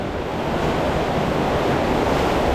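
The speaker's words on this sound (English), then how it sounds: "We already had a good splash." Rushing, churning water sounds continuously and loudly on the Piranha river rapids ride at Efteling, with a broad steady wash and no talk.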